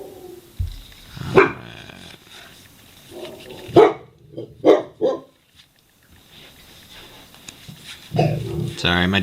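A pet dog lets out a few sharp barks in an indoor room, loud bursts spaced across the moment, with someone talking before and after.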